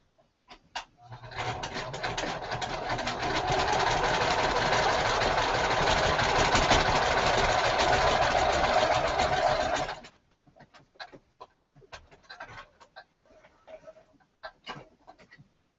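A sewing machine stitches two quilt pieces together in one loud, continuous whirring run of about nine seconds, then stops, leaving faint handling clicks and rustles.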